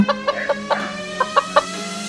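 A hen clucks in a quick series of short, evenly spaced calls, about eight in two seconds, close and clear with no voices over it.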